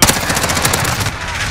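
An ISO gun fires in Call of Duty Modern Warfare, a rapid close automatic burst of loud, evenly spaced shots that drives on for about a second before the rattle drops away.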